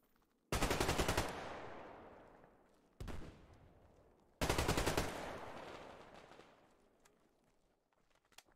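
Three bursts of RPK machine gun fire in the multiplayer shooter Survarium, each a loud rapid volley cutting off abruptly and leaving a long ringing reverberant tail, with short gaps between bursts.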